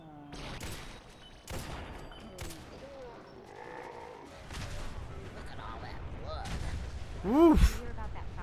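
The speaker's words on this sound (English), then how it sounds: "We got a double explosion" Booming explosions in the video game Fallout 4 with the Sim Settlements 2 mod burst out amid a noisy mix of effects, with a sharper, louder double blast near the end, all against continuous background game sound.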